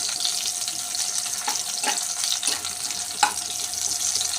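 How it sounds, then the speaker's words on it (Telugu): Onions and garlic fry in oil in a pan for palli chutney, giving a steady close sizzle with a few soft stirring clicks and no voices. "ఇలా ఆయిల్లో ఫ్రై అవ్వాలి ఉల్లిపాయలు."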